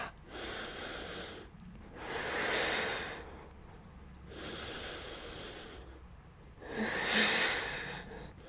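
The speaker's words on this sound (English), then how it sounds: "Deep breaths." Slow, deep breathing during a yoga headstand, close and soft: long airy inhales and exhales alternating in an even rhythm, roughly four breaths over several seconds with quiet pauses between.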